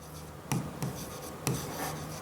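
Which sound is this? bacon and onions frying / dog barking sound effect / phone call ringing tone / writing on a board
writing on a board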